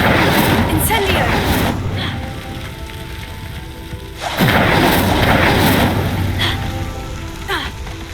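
The Incendio fire spell in the Hogwarts Legacy video game, heard as two loud whooshing fiery bursts with booming impacts, several seconds apart, with crackling between and a voice in the background.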